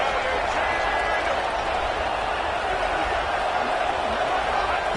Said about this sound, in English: The noise. This crowd is trying to inspire this defense to make a big red zone stop.